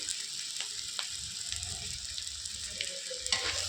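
Vegetables and lentils frying in a pan for khichuri, a steady soft sizzle with occasional clinks and scrapes from stirring, close and fairly quiet.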